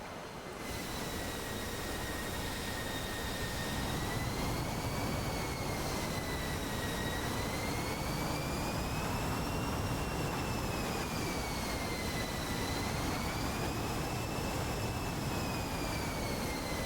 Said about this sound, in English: Newt in the F-16.